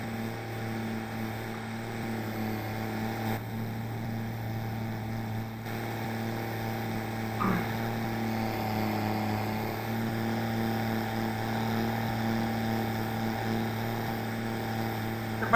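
Arjun 605 4x4 tractor engine in Farming Simulator 22, a steady low droning hum with a constant tone held throughout, close and moderately loud, with a brief faint click midway and no talking.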